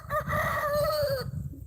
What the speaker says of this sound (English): He's our oldest rooster